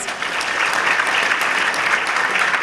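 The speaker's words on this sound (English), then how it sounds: "So let's give them a big round of applause." Steady, dense applause from a large audience at a university State of the University address, sustained and even throughout with no break.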